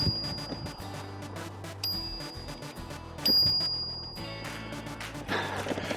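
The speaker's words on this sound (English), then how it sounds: "Bell on the Brompton, a bit quiet." A quiet bell on a Brompton folding bicycle dings twice during a ride out to warn a pedestrian, each ring short and thin, with road and pedal noise and breathing around it and no talk.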